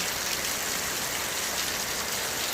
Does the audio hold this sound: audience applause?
no